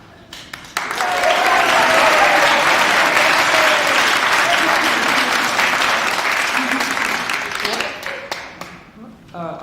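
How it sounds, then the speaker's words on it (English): Sustained applause from a worship service audience, starting abruptly, holding steady and loud for several seconds, then tapering off, with a few voices mixed into the clapping. "applause from the audience erupts"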